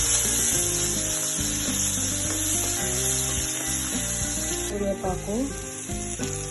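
Karonda paste with green chilies and dried red chilies sizzles in hot oil, a steady frying hiss under background music.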